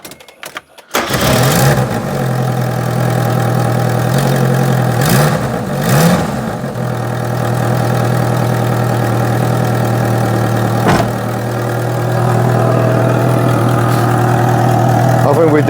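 A car engine with an exhaust leak cranks and catches, then settles into a loud, steady idle with a slight rev midway, heard up close.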